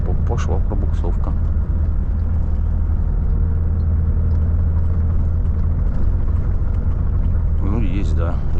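A Volvo FH 540 truck's wheels spin and lose traction while climbing a slick, sanded winter road on a haul to Yakutsk, a steady heavy engine rumble droning throughout with a few voice sounds over it.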